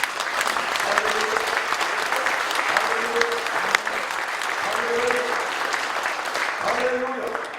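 A church congregation at Gwangmyeong Church in Uijeongbu bursts into sustained, loud clapping during a sermon, a thick continuous roar of hands with voices calling out faintly through it.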